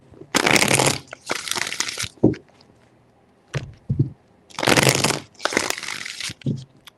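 Tarot cards being shuffled, two pairs of loud riffling bursts each lasting about a second, with softer taps and card handling between them.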